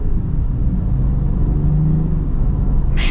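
A 2026 Land Rover Defender 90 with an inline-six engine accelerates, giving a steady, loud, low rumble that holds throughout, with a brief hiss near the end.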